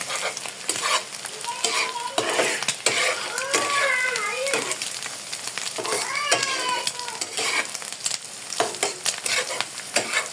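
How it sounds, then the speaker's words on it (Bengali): Egg, onion and green chili sizzle steadily in a pan for homemade noodles while a utensil stirs and scrapes. A cat meows a few times in the background. "প্রথমে ডিম দিয়েছি, ডিমটা হালকা ভেজে নিয়েছি, তারপরে পেঁয়াজ দিয়েছি, কাঁচামরিচ দিয়েছি।"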